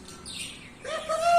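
A bird gives a few short, rising chirps and tweets, fairly close and moderately loud, ending in a brighter call near the end.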